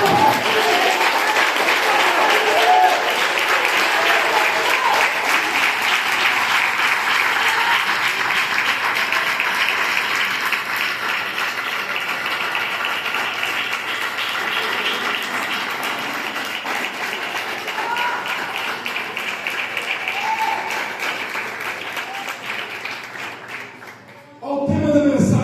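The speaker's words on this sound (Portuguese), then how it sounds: "Aplauda Jesus!" A church congregation applauds in praise during a Portuguese-language worship service, a dense, steady wash of many hands clapping that fills the whole stretch, easing slightly toward the end before a brief dip and swell.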